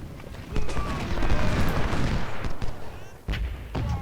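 Musket volleys in Ultimate General: Civil War, dense crackling massed gunfire with cannon booms rolling underneath, continuous and loud, ending with a few separate reports.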